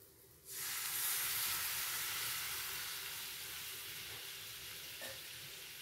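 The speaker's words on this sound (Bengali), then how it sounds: "এবার আমি সামান্য গরম জল দিয়ে দেব" Hot water poured into sizzling fried spice paste for a Bengali bhangan fish curry erupts in a loud, sudden burst of hiss and spitting sizzle, then settles into a steady, close frying hiss that fades slightly.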